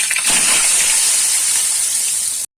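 A loud, steady hissing sizzle of potatoes dropped into hot oil tempered with cumin, continuous and close, then cutting off abruptly.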